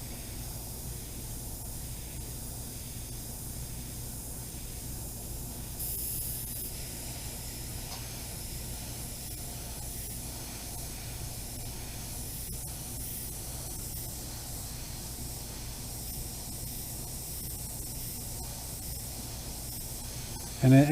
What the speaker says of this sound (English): this paint is really thin, so it's forcing me to move slowly to apply these layers in multiple thin layers